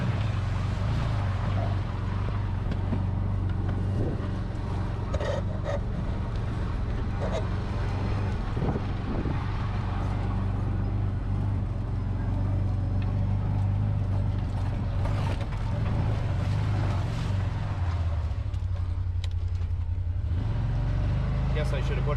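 A four-wheel-drive vehicle grinds along a muddy farm road during New Hampshire mud season, a loud, continuous low engine rumble with wind buffeting the microphone, bumps and jolts scattered throughout, and a person speaking over it.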